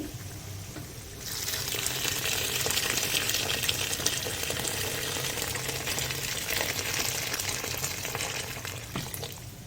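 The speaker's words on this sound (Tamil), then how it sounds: "கொதிக்கிற தண்ணி சேர்த்தாச்சு" Boiling water pours steadily into a pot for mushroom biryani with a continuous rushing splash that starts abruptly and keeps going, close and moderately loud.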